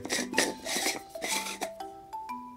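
Coffee beans crunch in a Kalita KH-9 hand grinder, giving rhythmic rasping bursts with each turn of the crank, close and fairly quiet, mixed with faint clinking tones.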